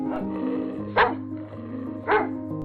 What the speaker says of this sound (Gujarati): છેવટે બંને સામ સામે જોર જોરથી ભસવા લાગ્યા